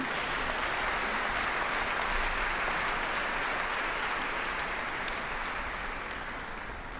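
Steady, dense applause from a concert audience for the Tbilisi Women's Choir, filling the hall at a constant level and tapering slightly toward the end, with no voices over it.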